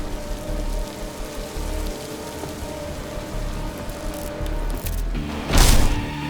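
Steady rainfall in the video game Hitman: Absolution patters on a surface with a low rumbling background, swelling briefly louder near the end.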